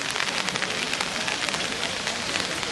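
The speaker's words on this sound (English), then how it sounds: "On the way to Gingakuchi, the rain was so heavy" Heavy summer rain in Kyoto, a dense steady hiss of drops pattering on surfaces, close and continuous with no voices.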